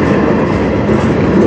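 Freight cars of a CN manifest train hauled by locomotives CN 3077 and CN 2914 rumble by at close range near Sarnia, Ontario, producing a loud, steady roar of rolling wheels.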